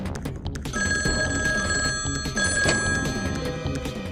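A cartoon telephone rings with a bright, continuous electric bell tone, loud and steady for several seconds over light background clatter.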